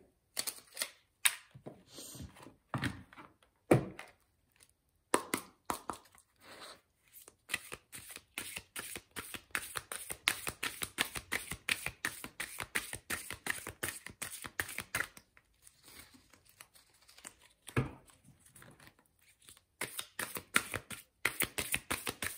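A deck of angel tarot cards being shuffled by hand, with crisp riffling bursts and card flicks repeating steadily throughout, close and clear with no talking.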